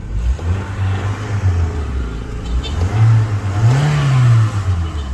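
A car engine with a sluggish, unresponsive throttle and suspected bad VVT revs up loudly and close by as the gas pedal is pressed, rising twice in pitch before easing back, with no talk.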